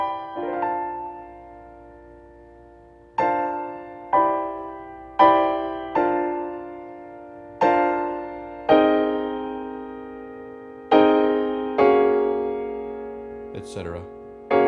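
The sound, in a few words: piano playing the Copland chord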